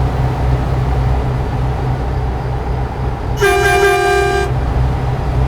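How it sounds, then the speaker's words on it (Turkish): Truck horn in the driving game Euro Truck Simulator 2, one loud steady blast lasting about a second over constant engine and road rumble, with no talking. "Şöyle bir kornamıza da basalım"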